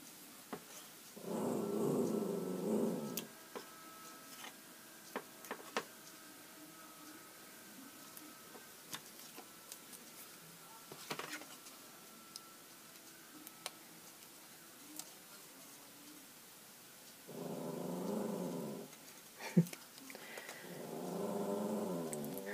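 Small Yorkie dog making low growling, grumbling vocal sounds in a quiet indoor room, in a few short bursts separated by stretches of near silence with faint ticks and clicks.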